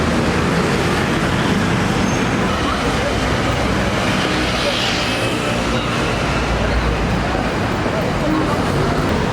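Loud, constant rumble of a metro train moving through Saint-Denis station in Paris, with heavy low-end roar and rolling mechanical noise throughout.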